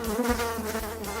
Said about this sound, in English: Housefly.